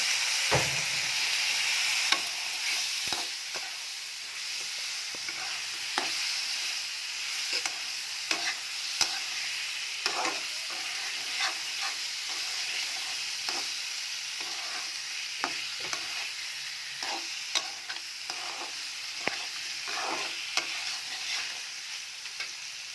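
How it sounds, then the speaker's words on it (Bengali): Local koi fish fry in a pan with a constant hissing sizzle, while a spoon stirs and scrapes in frequent sharp clicks and knocks, close and alone without speech. "এই যে দেশি কই, এটা দিয়ে রান্না করব বড়ি দিয়ে। দিয়ে দিলাম কই মাছটা।"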